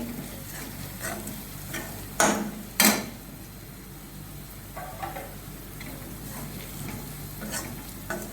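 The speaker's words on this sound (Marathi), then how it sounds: "हे सगळे मसाले चांगले परतलेले आहे" Ground spices including chicken masala and garam masala sautéing in a kadai, a continuous sizzle broken by sharp spoon clinks and scrapes against the metal, near and alone without talk.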